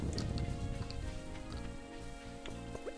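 Rain falling in the farming video game Stardew Valley, a soft, steady patter with scattered drip-like ticks, quiet and continuous with no talk over it.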